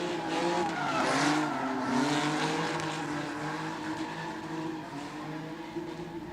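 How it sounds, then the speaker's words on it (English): A naturally aspirated BMW E46 race car drifts through a transition at a pro drifting round, its engine wailing loud and close with shifting harmonics as it sweeps past, plus a haze of tire noise, no talk. "controlling this naturally aspirated E46, taking the inside line on the back end of that transition"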